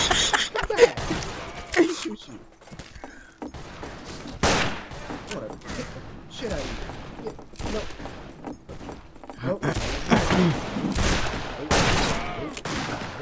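Gunfire in the Western shooter game Fistful of Frags, several sharp shots and bursts scattered over the stretch, loud in the mix while a player talks over much of it.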